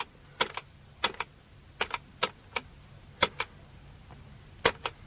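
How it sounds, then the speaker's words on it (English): Keys on a computer keyboard are pressed one by one to enter a tape number, about a dozen sharp, separate clicks often falling in quick pairs, close and distinct over a quiet background. "punch the number out on this keyboard"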